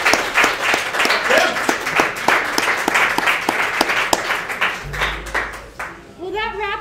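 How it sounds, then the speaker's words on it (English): An audience at a live show at the Western States running event breaks into loud, sustained applause, a dense clatter of many hands that fades out near the end, when a few voices are heard. "Let's give Mr. Ferraris a round of applause."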